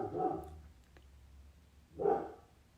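A pet dog barking indoors, with two short loud barks separated by a pause of almost two seconds, fairly close, with no speech.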